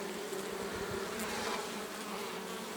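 Honey bees buzz steadily at the entrance of a hive of framed combs during the acacia nectar flow, a dense, continuous drone close to the microphone with no voices.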